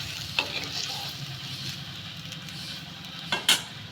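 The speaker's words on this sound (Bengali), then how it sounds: "দিয়ে এটাকে মশলাটাকে ভালো করে কষিয়ে নেব।" Spices with turmeric and salt sautéing in oil, a soft steady sizzle close by, with a few sharp spatula taps against the pan near the start and end, no talking.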